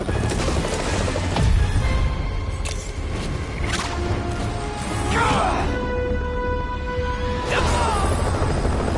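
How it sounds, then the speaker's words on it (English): Helicopter being stolen in a Spider-Man video game: a mechanical rotor-like drone mixed with crashes, clanks and other game effects, loud and continuous throughout. "They're stealing a chopper."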